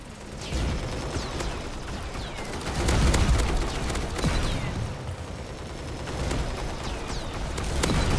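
Shotgun blasts in the Assault Bots video game, a dense run of loud, overlapping booming shots with bursts swelling and fading over several seconds amid other battlefield gunfire.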